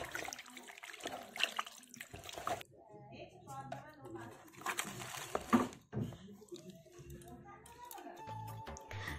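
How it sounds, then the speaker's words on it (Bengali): Raw chicken meat is washed under running tap water in a home kitchen, with irregular splashing and trickling that stops and starts, and a voice talks over the water. "মাংসটাকে ভালোভাবে ধুয়ে রেখে"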